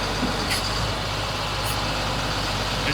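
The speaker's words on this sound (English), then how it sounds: "And you can see the bed slides in and out." A 2000 GMC C6500 flatbed tow truck runs its hydraulic bed, sliding it in and out with a steady loud engine drone and mechanical whine, a few faint high hisses on top.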